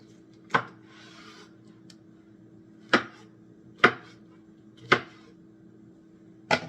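A knife cuts through a fresh pineapple on a cutting board, giving five sharp, separate chops spaced a second or more apart, close and crisp, with faint scraping between them and a steady low hum underneath.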